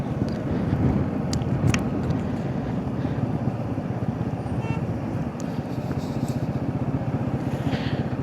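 A Royal Enfield Himalayan 450 motorcycle, being run in, rolls downhill on a ghat mountain road, its engine thrumming steadily under heavy wind buffeting on the microphone, with a few faint clicks.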